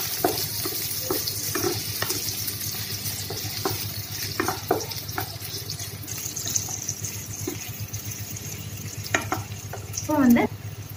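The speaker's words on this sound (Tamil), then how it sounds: "பைனாப்பிளை லைட்டாக வதக்கிக்கோங்க. எப்பவுமே லோ ஃப்ளேம்லேயே வச்சு வதக்கிக்கோங்க" Pineapple pieces are sautéed gently in a pan over a low flame, giving a steady quiet sizzle with repeated stirring scrapes and light clicks of the utensil.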